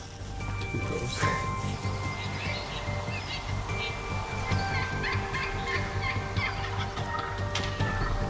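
Wild turkeys gobble in repeated rattling bursts over a constant outdoor background hiss, at moderate loudness and some distance.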